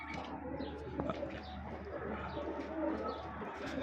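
Pigeons or doves coo softly in an aviary, several overlapping calls with a few chirps, steady and fairly close over a low background hum.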